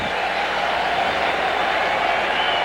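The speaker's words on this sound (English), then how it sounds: "The applause you heard in the background" A stadium crowd at a 1996 baseball game applauds Bernie Williams' 100th RBI, a steady, dense wash of clapping and cheering that sounds distant and unbroken throughout.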